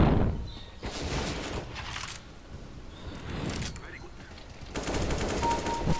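Rapid bursts of gunfire from a Counter-Strike: Global Offensive match crackle in clustered volleys, with a heavier stretch near the end, mixed with game noise and a player's voice talking over it.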